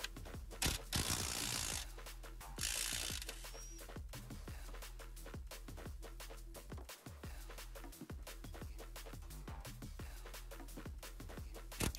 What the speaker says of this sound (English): I then use a 17mm to undo the rear bolt.